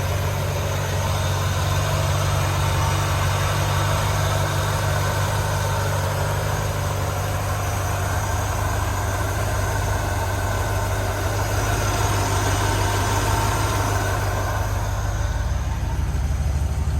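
A 1967 Chevrolet Impala SS convertible idles with a steady, even low rumble that runs smoothly and unbroken for the whole stretch, fairly loud and close, with no voices over it.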